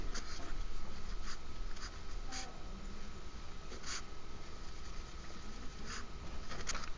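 Marker or chalk strokes squeak and tap in short, scattered bursts while a picture is drawn on a board during a math lesson on circles, heard fairly close over steady room hiss.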